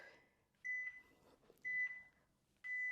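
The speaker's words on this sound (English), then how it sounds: "I'm just quieting our beeps." Three evenly spaced electronic beeps from a workout interval timer, each a clear steady tone about a third of a second long, sounding faintly in an otherwise quiet room.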